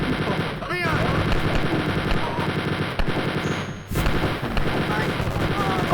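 A minigun firing continuously in the video game Spear of Destiny, a loud, dense, unbroken mechanical rattle with a brief break near the middle, over game music.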